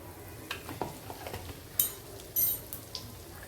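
Soft sizzling of cumin and asafoetida frying in hot oil in a pan, with scattered crackles and a few stirring scrapes, fairly quiet and close, with no talking.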